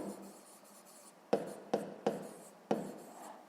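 Pen writing on paper during a sixth-grade maths exercise: four short, sharp scratchy strokes, close and fairly quiet, separated by soft pauses.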